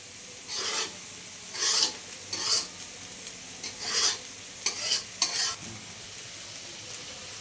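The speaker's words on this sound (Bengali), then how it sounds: "তো চাল আর ডালটা কিছুক্ষণ আমি ভেজে নেব" Rice and lentils for bhuna khichuri frying and being stirred in a pan, giving close scraping rasps in short repeated strokes over a steady low sizzle, with no voices.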